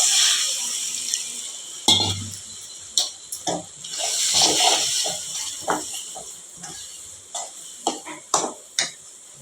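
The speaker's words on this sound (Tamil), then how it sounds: "இது கொஞ்சம் தண்ணி சேர்த்து நல்லா கலந்து விட்டுக்கலாம்." Water poured into a spiced tomato-onion curry for manathakkali kulambu, then stirred in the pot: a pouring hiss followed by scraping spoon strokes and wet sloshing bursts, close and with no talk.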